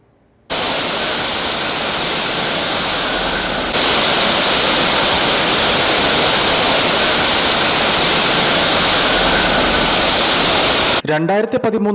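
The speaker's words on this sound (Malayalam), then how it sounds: "ചീയപ്പാറ വെള്ളച്ചാട്ടം ഇങ്ങനെ മനോഹരമായി ഒഴുകിക്കൊണ്ടിരുന്നു" Steady, roaring rush of Cheeyappara waterfall in Kerala, loud and continuous without break, ending in a short burst of speech.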